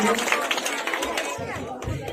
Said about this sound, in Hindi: इनके लिए एक बार जोरदार तालियों से स्वागत कीजिए